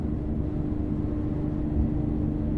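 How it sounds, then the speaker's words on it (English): An Infiniti G37 with Motordyne exhaust and stock headers cruising at about 80 in fifth gear near 3,000 RPM gives a steady low rumble, heard from the cabin with constant road and wind noise. "And yes, you're hearing the exhaust"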